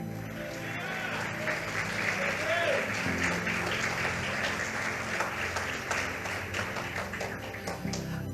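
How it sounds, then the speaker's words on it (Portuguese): A church congregation applauds during an anniversary worship service. The clapping is dense and sustained for the whole stretch, with a voice faintly heard over it. "aplaudimos ao Senhor e glorifiquemos a Ele"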